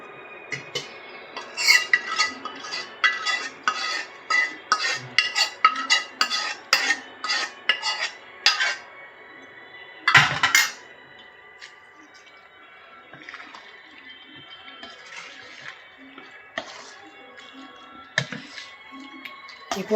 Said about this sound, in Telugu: ఈ పోపు చల్లారిపోయింది, ఇందులో వేసి కలుపుతున్నాం.